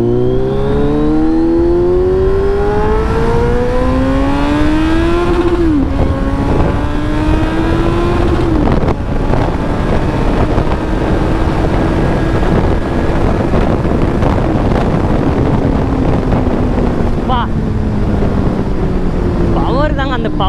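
A Kawasaki Z900 superbike engine revs hard, its pitch climbing in repeated rising sweeps through the gears, loud and close with heavy wind buffeting over the microphone.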